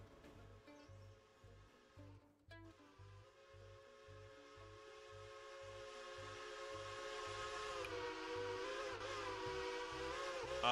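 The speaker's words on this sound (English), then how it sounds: "I hear a whistle. It's not my whistle." A train whistle sounds in the Railroader railroad video game, a sustained steam-style tone rising in strength over about ten seconds above rhythmic chugging, with no voices.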